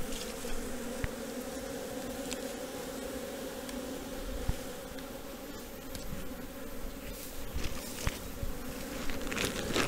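Dense, steady buzzing of honeybees at a hive packed with bees during queen rearing, a continuous close hum with occasional louder passes of individual bees.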